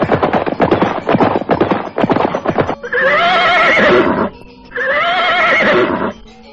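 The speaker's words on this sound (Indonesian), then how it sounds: "kuda-kuda yang mereka tunggangi mulai menapak di tepian hutan tari" Horses ridden at nightfall at a forest's edge: hooves clip-clop rhythmically for about three seconds, then two loud, close whinnies follow with a short pause between them.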